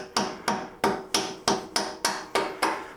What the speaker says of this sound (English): I'm going to take a punch and a hammer and help that get in there.